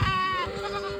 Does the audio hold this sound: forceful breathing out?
no